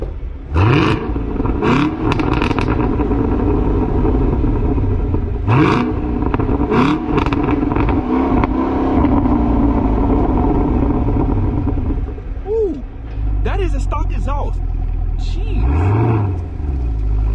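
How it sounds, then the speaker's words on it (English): Stock exhaust of a manual Chevrolet Camaro ZL1 1LE revving loudly and close, with sharp throttle blips and pops over a deep, steady rumbling idle, the note dropping off briefly before more quick revs near the end. "All right, so I want y'all to hear the exhaust on this."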